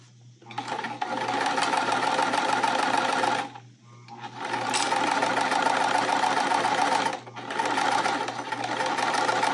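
Sewing machine stitching quilt fabric, attaching the left-hand side of a block with the tension set a little low: steady, loud, close whirring runs in three long bursts with two brief pauses between them, no talk.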